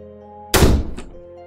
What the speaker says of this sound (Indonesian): pintu WC-nya menutup kencang dengan sendirinya